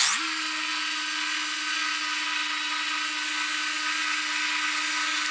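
Forced rotation polisher working car paint on a test hood: a loud, steady motor whine that spins up quickly and holds an even pitch throughout, close and continuous with no talk.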